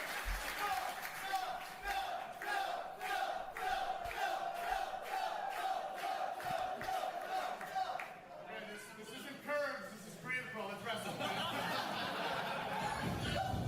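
A small-town wrestling crowd in Hicksville cheers and chatters approvingly before a match, keeping up a steady, dense roar of mixed voices with bursts of laughter and shouting. Rhythmic thumping runs through the first half.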